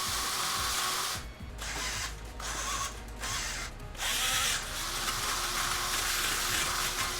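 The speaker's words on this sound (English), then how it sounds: "This drill literally just does not have the power." An underpowered power drill strains while driving into 2x4 lumber, whirring steadily and loudly with a few brief dips where the motor slows or stops.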